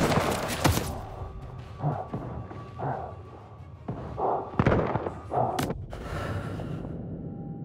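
Gunfire and explosions in Call of Duty Vanguard on commando difficulty: a heavy boom opens, then scattered thuds and blasts echo at varying distances, with a loud crack later and a rumbling tail.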